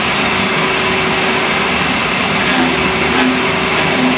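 A workshop dust extraction system running, a loud steady vacuum-like roar with a constant motor whine, unbroken throughout and close by.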